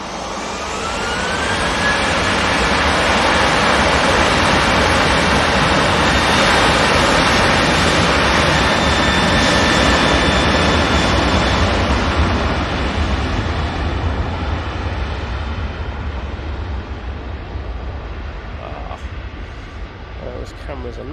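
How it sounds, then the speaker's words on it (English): TUI Boeing 787-9 Dreamliner arriving at Manchester Airport, a loud broad jet roar building and holding before slowly fading, with faint voices underneath. "Next in will be the TUI 787-9 Dreamliner coming in from Punta Cana."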